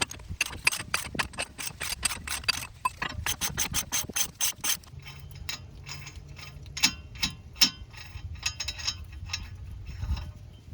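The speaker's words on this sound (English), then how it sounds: "now you want to take off your axle nut, and for that I have a 32 millimeter socket" A socket wrench with a 32 mm socket ratchets against a car's axle nut, a Chevy Cruze wheel hub during a wheel bearing job, giving bursts of rapid metallic clicks close by, then slower spaced ratchet strokes and some clanks, with no talking.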